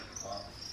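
Crickets chirp indoors in a home with an insect infestation, a thin steady high chirping held close and faint at low level, with no voices.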